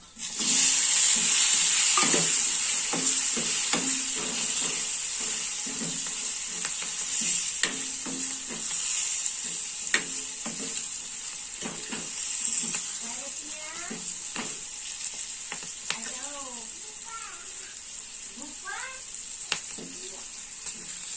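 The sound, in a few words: beans stirred and sautéed in fried onion-garlic masala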